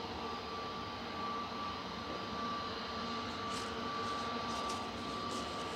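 A TUI passenger jet bound for Mahon at Manchester Airport gives a steady, broad engine roar that holds evenly throughout, at moderate distance.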